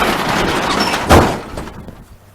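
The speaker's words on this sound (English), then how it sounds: "we'll close the door" A door at a fire department fill station shuts with a single solid thud about midway, amid brief rustling, followed by a quieter tail of room noise.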